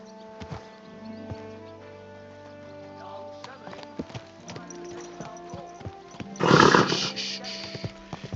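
Horse hooves clip-clopping at a steady riding pace in the medieval game Kingdom Come: Deliverance II, moderately close, blended with background game ambience and a louder rustling burst near the end.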